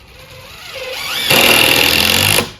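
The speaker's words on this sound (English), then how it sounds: "It'll also drive these T25 screws" Cordless drill driving T25 screws, a quieter low start and then a loud, steady high whine for about a second as the screw drives home, stopping sharply.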